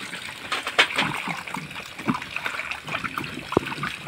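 Freshly harvested cucumbers are washed by hand in water, with close splashes, sloshing and trickling in irregular bursts and one sharp knock near the end.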